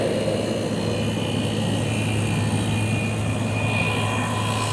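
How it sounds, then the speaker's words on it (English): A Hisense 12000 BTU window air conditioner's compressor hums steadily at close range, a constant low drone with airy fan noise over it, even and unbroken throughout with no talking. "compressor sounds pretty good, but just ambient air"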